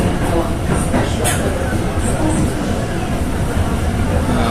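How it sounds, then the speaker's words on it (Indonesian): A train rolls through a busy Jakarta railway station in a continuous loud rumble, with scattered sharper metallic squeals and clatter riding on top throughout. "Nah, ini kereta kompartemen switch tadi."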